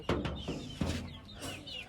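Chickens in a coop fed on rice cluck in short bursts close by, several overlapping calls and clucks spread over a couple of seconds, with no talking.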